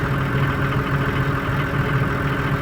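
A new D-260 diesel engine in a Niva SK-5 combine idles at its first start, a steady, loud low rumble with even mechanical chatter that holds throughout, no voices over it.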